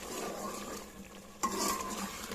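Chicken with tomatoes and dry spices sizzles in a pan while a utensil stirs and scrapes against the metal, with a sharp clink midway and a steady fry beneath, no speech.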